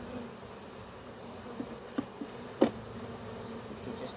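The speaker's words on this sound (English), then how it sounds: "then we can knock the rest of the bees in the box" A honey bee swarm being moved into a hive box hums as a steady, low buzzing drone throughout, with a few soft knocks and taps near the middle.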